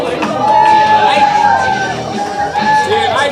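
At a club boxing night, a crowd cheers and whoops as a young boxer comes out, with loud, sustained shouting throughout and an announcer's voice mixed in.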